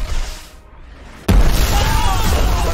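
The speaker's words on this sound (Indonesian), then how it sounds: "tiba-tiba pihak teroris langsung menembakkan ledakan besar ke arah para pasukan ini" A sudden heavy boom bursts out after a quiet rumbling lull, followed by sustained loud roaring blast noise.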